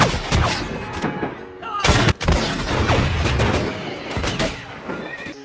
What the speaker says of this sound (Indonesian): Suasana hening di hutan menjadi ribut oleh suara tembakan dan teriakan.